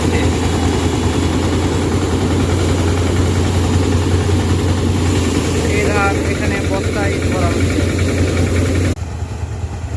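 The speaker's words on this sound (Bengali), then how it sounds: "মেশিনে দেওয়া হবে মেশিন থেকে ধান বের হবে এই যে মেশিনে এই সাইডে ঢুকানো হচ্ছে" A steady, loud engine-driven paddy threshing machine drones continuously with a low rumbling hum and mechanical clatter as rice is fed in, and voices talk over the noise before it drops off near the end.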